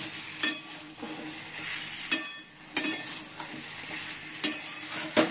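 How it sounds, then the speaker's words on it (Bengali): Pieces of pointed gourd and potato fry in a pan over cooked-down spice paste, a continuous soft sizzle broken by several sharp scrapes and clinks of a spatula stirring against the metal. "এবার পটল আলুগুলো দিয়ে দিলাম ভাজা"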